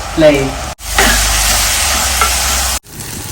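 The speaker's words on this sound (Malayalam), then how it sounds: "ചിലതൊക്കെ ഇങ്ങനെ ബ്രൗൺ കളറായി തുടങ്ങും അപ്പോൾ അതുവരെ വഴറ്റണം കേട്ടോ" Masala sautéing in a pan for a corn and paneer curry, giving a loud, steady sizzle with stirring scrapes, broken by two brief pauses.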